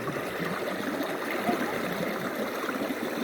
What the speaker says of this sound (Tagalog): Dito kami sa ilog.